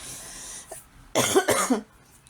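A single harsh cough bursts out after a faint short sound, loud and close, with a quiet background before and after.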